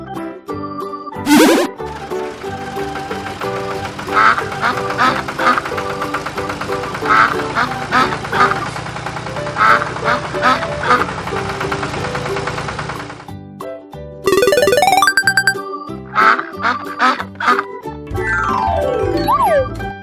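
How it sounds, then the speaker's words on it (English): A duck quacks in a string of loud, close, nasal calls, repeated in a quick uneven rhythm, followed by a few brief sound-effect tones. "Duck."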